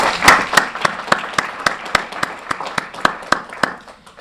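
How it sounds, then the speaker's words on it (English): A small audience at a kidney-care policy summit claps in sparse, distinct hand claps that thin out and fade over a few seconds. "an applause for our guests, please"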